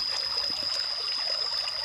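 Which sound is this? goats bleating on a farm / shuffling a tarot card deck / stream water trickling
stream water trickling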